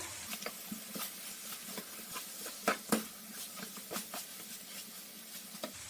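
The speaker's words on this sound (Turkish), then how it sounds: "Salçayı iyice böyle kıymaya yedirip kavuruyorum. Ve üzerine domatesleri ekliyorum." Minced meat fried with tomato paste in a pan, then tomatoes stirred in; a soft, close sizzle runs throughout, broken by a few louder scraping stirs and faint pattering spatters.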